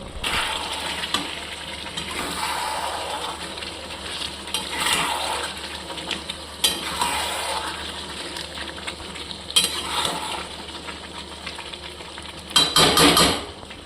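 Chicken and boiled potatoes are sautéed in a pan. A soft continuous sizzle runs under intermittent metal spatula scrapes and clinks, with a louder stirring clatter near the end and no talking.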